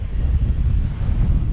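Wind in a snowstorm near the Arizona–Mexico border buffets the microphone with a steady, loud low rumble that runs without a break.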